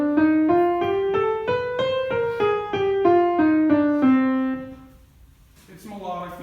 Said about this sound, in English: So that is a melodic minor scale,